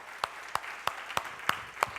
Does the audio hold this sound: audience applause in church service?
yes